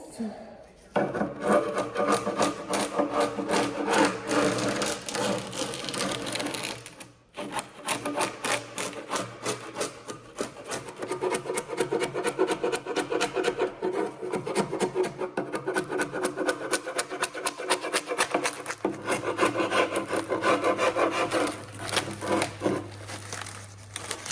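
Cloth covering is scraped and torn off an old, very rough piece of furniture being restored, with a continuous close rasping, rubbing and crinkling across the whole span.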